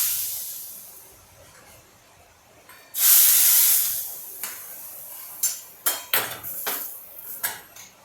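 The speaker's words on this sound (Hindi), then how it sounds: "ये तड़का मैं अब दाल पे डाल दूँगी" A hot tadka of red chilies is poured onto dal, setting off a sudden loud sizzling hiss for about a second. Several sharp metal clinks of utensils on a pot follow.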